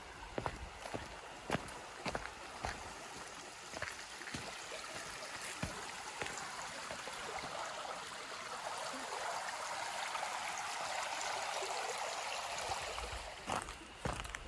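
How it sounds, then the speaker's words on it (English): A small creek runs with a steady, soft rushing and trickling that grows fuller partway through, near a campsite, with scattered footsteps and clicks nearby. "I can hear some water running over here."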